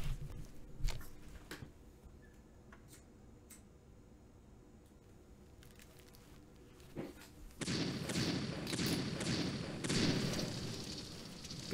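Coastal artillery fire in the American Civil War II strategy game: scattered dull thumps and ticks over a quiet bed, then a louder rumbling barrage of dense booms in the final seconds.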